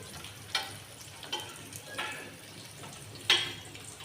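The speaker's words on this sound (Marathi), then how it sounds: "लसूण आपण सर्व परतून घेणार आहोत" Shredded cabbage and garlic sautéing in a pan for a traditional Indian vegetable dish, a quiet steady sizzle broken by a few sharp stirring clanks against the pan.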